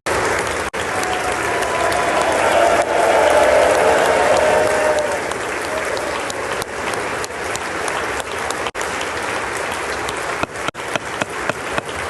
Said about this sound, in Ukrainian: Конгрес зустрів нашого головнокомандуючого оваціями.